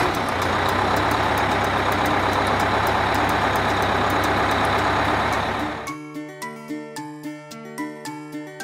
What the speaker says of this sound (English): London bus.